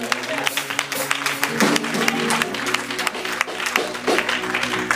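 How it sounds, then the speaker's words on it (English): A church congregation claps in praise, a dense, continuous wash of hand claps with some voices mixed in. "Let's give God a hand clap of praise."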